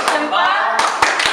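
A group does a rhythmic salute clap at a youth panel event: a few sharp, loud, close claps spaced irregularly, with a voice heard briefly.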